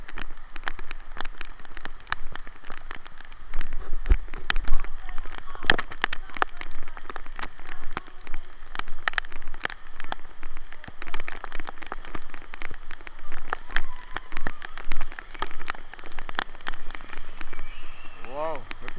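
Heavy rain falls in Jamaica, a dense patter of drops hitting surfaces that continues steadily and loud throughout, with a few sharper splashes and knocks.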